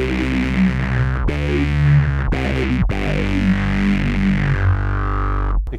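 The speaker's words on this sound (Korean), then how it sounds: "디튠 걸면 움직이는 파형이 들리시죠?" Detuned bass synth waveform from a C4 synth with distortion, sustained harmonic-rich tones that shift pitch in several steady notes with slow wavering movement, loud and alone without talk.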